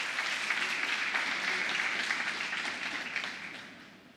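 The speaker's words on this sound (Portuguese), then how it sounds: "Pode aplaudir o Senhor Jesus nessa manhã, igreja." A church congregation at a morning service applauds, with dense, sustained clapping from many hands in a reverberant room that fades slightly toward the end.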